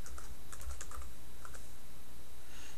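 Quick, light keystrokes on a computer keyboard as a password is typed, a short run of soft clicks in irregular bursts over a quiet background, with no voices.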